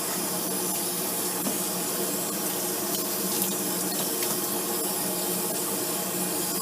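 Tap water runs steadily into a sink while a puppy is rinsed during grooming, a continuous close splashing hiss with no talk.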